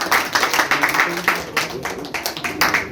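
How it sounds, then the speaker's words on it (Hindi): Audience clapping at a lively New Year 2023 celebration held by a social service organization, a steady patter of many hands with voices mixed in over it. "तालियां बजा दीजिए।"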